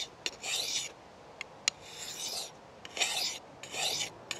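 A knife is drawn across a sharpening stone in four or five separate rasping strokes with faint clicks between them, close and fairly quiet, with no talking.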